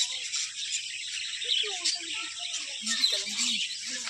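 Small birds, some crested, chirp and twitter in quick, light bursts over a soft, airy background hiss at the Patiala zoo.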